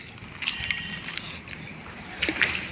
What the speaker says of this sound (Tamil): தண்ணி ஓடிக்கிட்டு இருக்கு